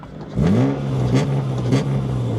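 A 1994 Ford Probe with a 2.5 V6 engine starts and revs up close by, its note climbing quickly and then settling to a steady, loud rumble with a few small blips of throttle.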